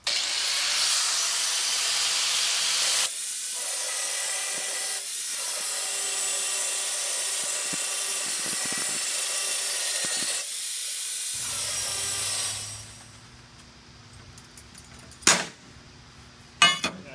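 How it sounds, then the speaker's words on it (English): A loud, steady hissing roar of a portable band saw cutting through metal runs for about twelve seconds with brief pauses, then stops, leaving quiet room noise and a few clanks. "So now we can start cutting this material out."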